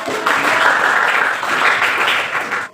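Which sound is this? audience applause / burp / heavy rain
audience applause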